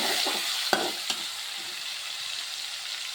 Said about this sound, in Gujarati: આદુ અને લસણ મરચું જે આપણે ચૂંટેલું લીધું છે એ પણ આપણે વઘારમાં નાખી દઈશું